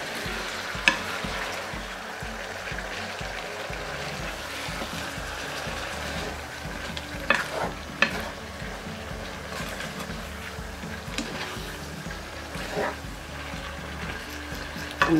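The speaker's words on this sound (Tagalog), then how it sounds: "Haluin natin." Potato and carrot noodles with meatballs sizzle and fry in a pan while being stirred, a steady crackle broken by occasional scraping clinks of the utensil against the pan.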